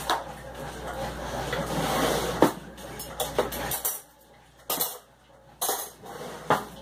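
Dishes being washed at a kitchen sink, including a rice pot and a meat pot: running water at first, then a series of close metallic clanks and scrapes of pots and cutlery at irregular intervals.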